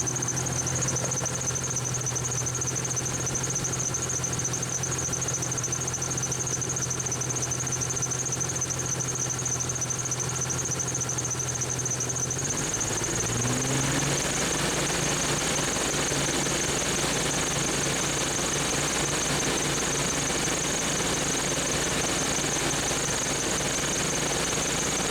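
A car engine is held at about 2,500 RPM during a battery test, giving a steady, loud mechanical drone whose tone shifts partway through and then holds.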